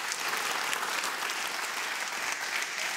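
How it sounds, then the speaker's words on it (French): An audience claps steadily and loudly at an evening university event, dense applause filling the whole moment without a break. "On l'applaudit bien fort, s'il vous plaît."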